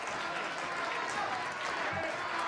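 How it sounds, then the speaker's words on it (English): A crowd at a political State of the District gathering gives C. Virginia Fields a round of applause, a steady, moderately faint roar of clapping that fills the short stretch without pause. "Give a round of applause to C. Virginia Fields"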